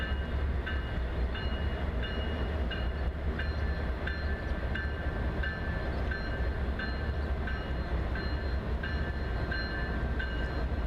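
A westbound CSX or NS freight train approaches in Bridgeport, Alabama, with a steady heavy rumble and a rhythmic metallic clatter of wheels that repeats through the whole stretch.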